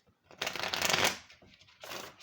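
A new, slightly sticky tarot deck is shuffled in two bursts of dense, riffling card noise: a long, loud run followed by a shorter one after a brief pause, close to the listener with no talking.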